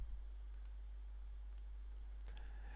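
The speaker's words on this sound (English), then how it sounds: "Click this and then click Extract File." A few faint, isolated computer mouse clicks during a software install, spaced sparsely across a short, quiet stretch with a low steady hum beneath.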